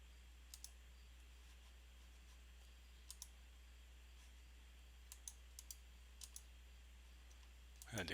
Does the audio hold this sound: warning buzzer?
no